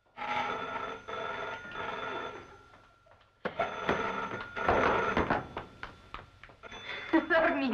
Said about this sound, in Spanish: es el teléfono